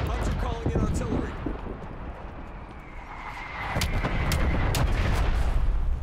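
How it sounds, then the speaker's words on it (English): Artillery strike in Black Ops Cold War during a Search & Destroy match, heavy booming blasts and rumbling impacts rolling over a few seconds, loud and fairly near, with a low crackling tail. "I'm using artillery this side."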